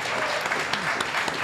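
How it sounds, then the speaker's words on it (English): Audience applause at a live event, a dense steady burst of many hands clapping that holds at an even, fairly loud level throughout, with no voices rising above it. "round of applause for producer Mike."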